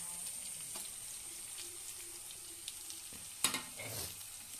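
Chili, turmeric and coriander powder roast in oil for a Kerala-style sardine curry, giving a soft, continuous sizzling hiss with a few faint clinks and stirring knocks near the end.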